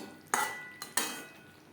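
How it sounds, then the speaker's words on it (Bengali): Cauliflower stems and other vegetables being stirred with fried spices in a pan: three short, close scraping strokes over a quiet background, the last two coming in quick succession. "সবজির সাথে ভাজা মশলা বেশ ভালো করে মিক্সড করে দেব"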